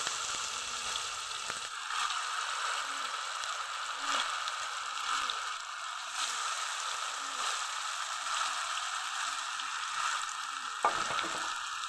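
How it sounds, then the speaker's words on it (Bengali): Chicken chap pieces fry in a small amount of mustard oil in a pan, giving a steady, close sizzle with soft bubbling, broken by a few faint knocks and scrapes. "এখন আমি চিকেনগুলি তেলের মধ্যে দিয়ে দিব"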